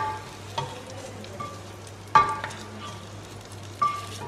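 Mushrooms fry in the oil left over from caramelizing onions, a soft steady sizzle up close with a few sharp pops and scrapes, no talking.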